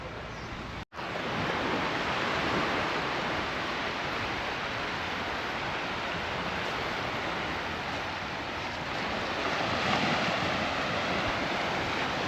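Small, gentle waves wash onto a calm beach at Puerto del Carmen, heard as a steady, even broadband surf hiss with light wind, continuous and without distinct breaks or talking.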